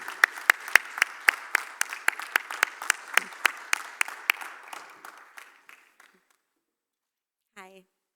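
A small audience at an awards ceremony claps in a sparse, evenly spaced rhythm that dies away after about six seconds, followed by a brief voice.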